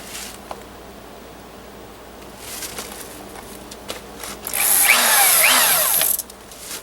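Quiet rustling and handling noises, then a loud power drill whirs for about a second and a half before stopping abruptly.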